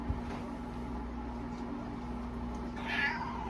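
A big house cat meows once, a clear, drawn-out call near the end, over a steady low room hum.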